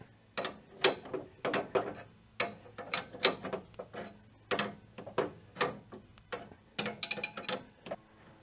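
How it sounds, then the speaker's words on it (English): A hand ratchet clicks in quick repeated bursts of turns while tightening coil spring compressors, close and crisp with short pauses between strokes, no talking. "Trade the electric ratchet for a regular ratchet."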